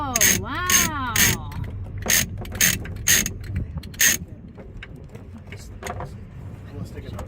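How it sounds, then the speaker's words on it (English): A hand-cranked winch loading a 1981 vehicle onto a rented equipment trailer gives off repeated loud ratcheting clunks in bursts, mixed with a groaning mechanical creak early on, close by, and fading to quieter clicks near the end. "everything else I've got a winch on, so I'm gonna hand crank it today"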